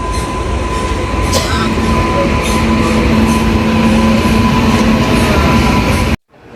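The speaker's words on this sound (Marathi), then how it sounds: "मेल चालली आहे" A mail train rumbles steadily past at close range at a station, wheels clattering with a faint high squeal, then the sound cuts off abruptly.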